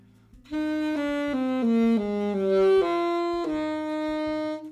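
A saxophone plays a series of low notes up close with a pinched embouchure, each held briefly in a steady stepwise line, with a slightly strained, pinched tone.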